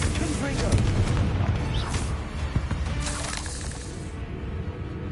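A Confringo blasting spell detonates in Hogwarts Legacy, a dense booming burst with crackling, shattering debris that rolls on for several seconds amid busy game noise.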